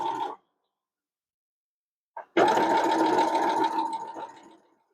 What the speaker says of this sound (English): And we're doing the chain stitching.